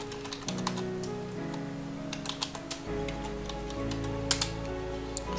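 Keys clatter on a computer keyboard as a Mac's name is entered into a Windows run box, with irregular clicks over a low steady hum.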